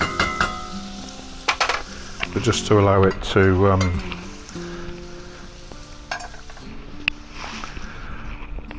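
Continuous sizzling and crackling of garlic, ginger and chicken frying in a pan on a narrowboat, with stirring clinks and someone talking over it.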